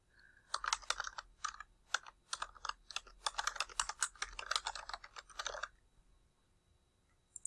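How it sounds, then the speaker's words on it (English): Login credentials being typed on a computer keyboard, a quick and uneven run of crisp close key clicks lasting about five seconds before stopping. "What I'm going to do is type in a credentials for a fictitious user."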